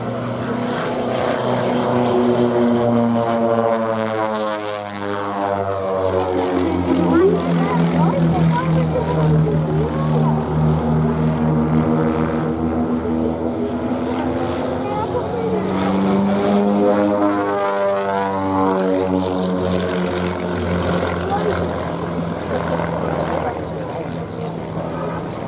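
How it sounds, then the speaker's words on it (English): Pitts S-1D aerobatic biplanes with Lycoming IO-360 piston engines flying a display at Duxford Airshow, UK: loud propeller drone sweeping up and down in pitch as the aircraft pass, with a commentator talking throughout. "horsepower each from the Lycoming IO360 piston engines"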